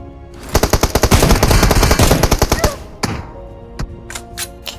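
Gunfire in a solo-versus-squad shooter game: a loud, fast run of evenly spaced shots, followed by a few separate single shots spaced apart, all close.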